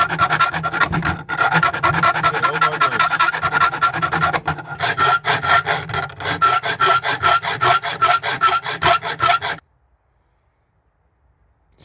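Rasping woodwork file worked against the clutch guide on an AU XR6 Series 3 Ford Falcon firewall: steady back-and-forth strokes for about nine and a half seconds, with one brief pause, then silence.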